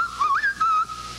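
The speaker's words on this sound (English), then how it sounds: "This will sing if I whistle." A person whistles a short, clear melody, a few bright notes rising and then settling into a sustained tone, close and fairly loud.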